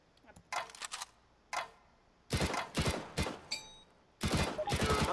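Gunfire in Counter-Strike: Global Offensive as shots are aimed at a target, sharp loud reports in separate bursts, single cracks first, then rapid clusters of shots, with a metallic ping between them.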